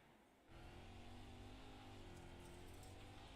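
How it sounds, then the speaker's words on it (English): A race car engine roars steadily after a sudden start during a racing league race, its pitch holding high and droning with slight surges as the throttle works. "You can hear Jack working that throttle"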